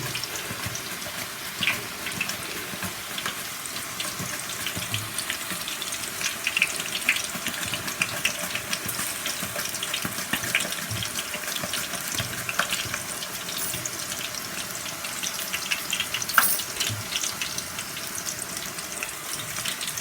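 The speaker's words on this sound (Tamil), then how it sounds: "இது கோகோனட் ஆயிலில் ஃப்ரை பண்ணுறோம் இல்லையா" Nendran banana slices fry in coconut oil for Kerala chips, a steady bubbling hiss at moderate level with occasional crackles and soft clatter, continuing without voices throughout.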